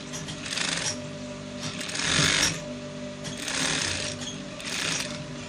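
A sewing machine stitches a trouser pocket bag in several short bursts of rapid needle clatter separated by brief pauses, close and clear.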